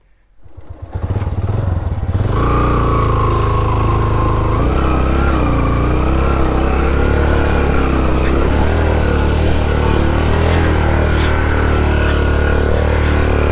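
A motorcycle climbing a muddy mountain jeep track at Baboon Top in Neelum Valley. After a quiet start, the engine rises at about two seconds into a steady, close, loud drone that holds throughout.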